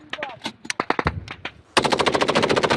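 Machine gun and rifle fire in combat against a surviving Russian tank crew, close, loud rapid bursts of shots, with a dense sustained burst in the final second.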